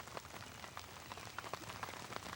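Rain falls during a spring turkey hunt in the Michigan woods, a soft, steady patter of drops on nearby surfaces with faint scattered taps, quiet and continuous.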